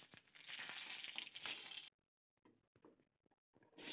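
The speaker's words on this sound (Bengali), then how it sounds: "তেলের মধ্যে প্রথমে 5 ফোড়ন দিয়ে দিলাম" Panch phoron whole spices hit hot oil in a pan with a sharp, close sizzle that crackles for a couple of seconds, then drops to scattered faint pops before flaring briefly again.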